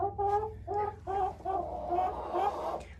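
A Leghorn hen clucks close by in a series of short, spaced, tonal clucks that run together into a longer drawn-out call near the end.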